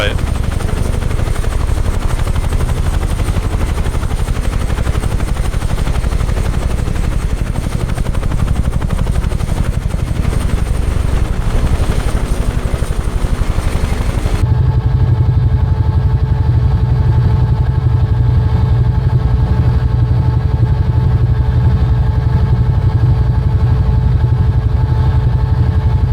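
A UH-1H Huey helicopter in Microsoft Flight Simulator, flying near Paro, Bhutan, gives a loud, continuous rotor and turbine drone that shifts to a deeper, steadier tone about halfway through.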